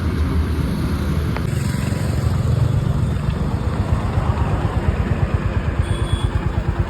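A motorcycle engine is started and settles into a steady idle, its throbbing pulses close and loud, growing more evenly rhythmic toward the end.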